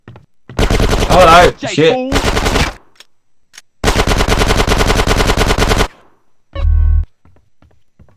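Bursts of automatic machine gun fire from the video game GTA San Andreas rattle loudly in several long rapid volleys separated by short pauses, with a man briefly exclaiming between them.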